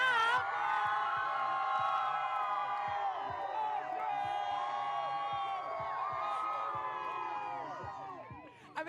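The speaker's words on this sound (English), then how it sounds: "just check out this crowd" A large crowd at the Astros parade in downtown Houston cheers and whoops, overlapping shouts and voices filling the air close by and fading slightly toward the end.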